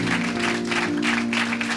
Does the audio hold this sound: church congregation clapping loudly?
yes